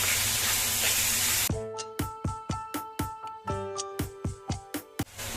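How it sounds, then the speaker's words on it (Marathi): Fresh small shrimp masala with tomato being sautéed after adding salt, a loud steady sizzle at first, then a run of about a dozen sharp, ringing metallic clinks as the pan is stirred. "मीठ टाकल्यानंतर एकदा परतून घेऊया।"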